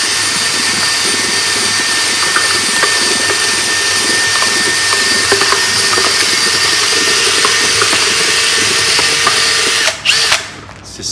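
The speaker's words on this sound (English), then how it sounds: "I use a drill to mix the paint." A loud, continuous whine of a power drill running steadily, churning paint, then cutting off abruptly near the end.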